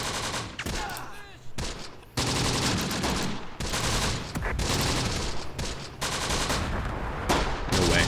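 Dense, continuous gunfire from a Close Combat: The Bloody First desert multiplayer battle, with overlapping rifle and machine-gun bursts that keep up loud and unbroken, and brief lulls between volleys.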